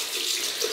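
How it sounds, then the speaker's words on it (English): Cold water runs from a tap for a post-shave rinse, a steady, close hiss and splash, brief and unbroken. "cold water rinse"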